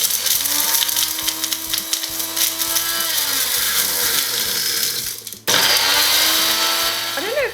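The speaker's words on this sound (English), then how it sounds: "so here we go, we're going to blend it." A borrowed blender grinds broken pieces of calcium source into powder, a loud steady rattling whir with a brief cut near the end before the motor roars back, sparking inside.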